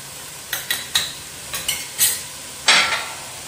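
Onions being stirred and sautéed with coriander powder, black pepper and crushed dried red chilli for a Kerala-style beef curry: a series of close, sharp scraping strokes with a soft sizzle, ending in one longer scrape.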